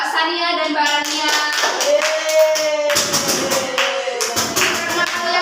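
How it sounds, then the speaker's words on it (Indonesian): A classroom claps for two students after their recitation of a Chairil Anwar poem, the bursts of clapping mixed with tonal voices or music. "Ya, beri tepuk tangan kepada Mbak Sania dan Mbak Rania."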